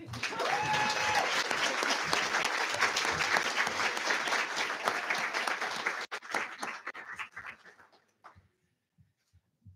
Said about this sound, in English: one more round of applause, please, for our English candidates